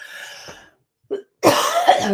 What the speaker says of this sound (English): you will have to excuse my cough tonight